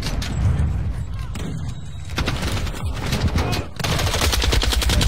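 Rapid automatic fire from a Lachmann 762 rifle in Modern Warfare II, loud sustained bursts with brief pauses and a final dense burst, in a busy game mix.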